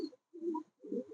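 Giribaz pigeons coo up close: three short, low throaty coos in quick succession with brief gaps of quiet between them.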